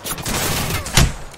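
Video game gunfire: a single sharp, loud shot cracking out over a steady background of game sound.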